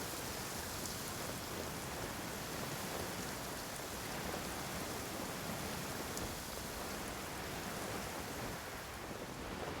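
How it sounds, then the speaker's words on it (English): Rain falls in a video game, a steady, soft hiss of downpour with an even texture throughout, faint and constant, with no speech. "It's raining."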